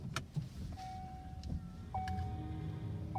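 An electric car starting up from quiet, with faint clicks and a soft thump followed by a thin, steady electronic tone that rises and holds, no engine noise, no talk.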